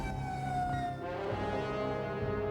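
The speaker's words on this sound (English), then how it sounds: "Sirens blare." A loud, sustained emergency siren wails continuously, its pitch drifting slightly, with a dense droning wash of sound throughout.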